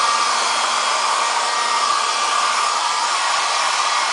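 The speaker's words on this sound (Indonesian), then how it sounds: "Anda perlu menyiapkan hair dryer" A hair dryer blows steadily while drying a molded laptop skin, a loud, even, continuous whir with no break or change in pitch.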